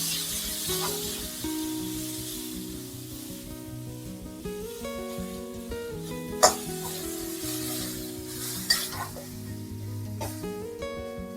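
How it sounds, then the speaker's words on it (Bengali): Shidol (fermented fish) paste sizzles gently in a pan with ground garlic and green chili while being stirred, a soft continuous frying hiss with occasional sharper clicks of the utensil; no talking. "আমি রসুন আর কাঁচা লঙ্কা বাটার সাথে একসাথে খুব ভালো করে বাটাটাকে আমি ভেজে নেব।"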